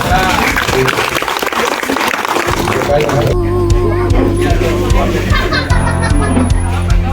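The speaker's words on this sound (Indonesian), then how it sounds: "Mungkin kita beri tepuk tangan, aplaus buat mereka." Applause from a church congregation over lively music, with a murmur of voices mixed in; the clapping for children and youth stays steady and fairly loud throughout.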